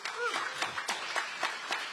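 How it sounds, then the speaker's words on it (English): Brief applause from an audience at a city council public forum, a few loose claps in an uneven rhythm with a voice audible at the start. "Round of applause."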